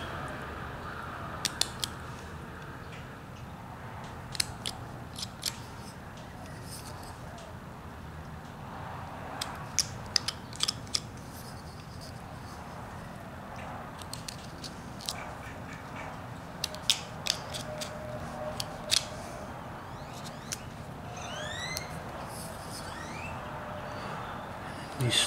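A knife whittles a wooden carved character, cutting down the nose, giving scattered short scraping and cutting clicks at close range against a quiet room background, with no talking.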